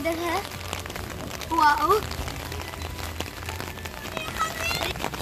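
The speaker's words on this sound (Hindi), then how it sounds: "मुझे लगता है ये बारिश पौधों का पानी देने के लिए आई है।" Rain falls steadily on a rainy day, a soft hiss of drops on surfaces heard close and faint, while someone speaks and exclaims over it.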